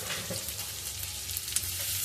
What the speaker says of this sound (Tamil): எண்ணெயை ஊற்றிட்டு இதில் வந்து வெங்காயத்தை போட்டுணும்.